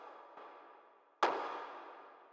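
A techno clap sample with no drum bus processing: two clap hits, a softer one followed by a louder, brighter one with a long decaying tail, heard alone.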